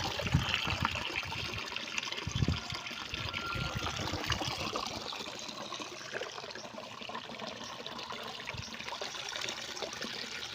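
Water trickles and dribbles through the connection feeding a bonsai pond aerator, a quiet, continuous splashy flow with no talk.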